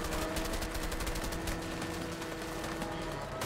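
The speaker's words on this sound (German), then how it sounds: "der Schuss ist ja sehr gut mit dem Bild synchronisiert" Rapid bursts of gunfire in a video game, a dense run of repeated shots at steady loudness from start to finish, with no talking over them.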